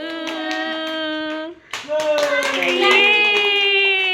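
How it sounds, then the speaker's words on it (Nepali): Hands clap at a child's birthday celebration, quick repeated claps running under loud singing and cheering voices. "ताली"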